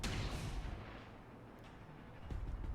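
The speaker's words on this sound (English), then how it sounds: "Turret fire." Turret fire in a strategy video game, heavy booming shots with a loud blast at the start and another near the end, their rumble fading between them.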